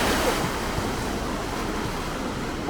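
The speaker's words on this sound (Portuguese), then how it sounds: "um parque que tem um rio que forma umas ondas ali" A river standing wave in a Munich park where people surf gives a steady, broad rush of churning water, continuous and fairly loud with wind noise mixed in and no voices.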